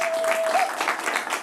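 A comedy show audience applauding, dense sustained clapping from a crowd close by, steady throughout the short stretch.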